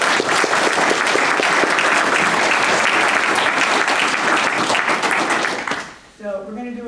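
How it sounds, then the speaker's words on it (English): Loud, sustained applause from a conference audience, dense clapping near and far for about six seconds, then fading as a voice begins speaking. "Can we have another round of applause?"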